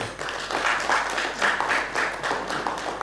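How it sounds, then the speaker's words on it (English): A short round of applause from members at a credit union's annual general meeting, with clapping swelling in rhythmic waves, moderately loud and fairly close. "Let's give all of them a round of applause"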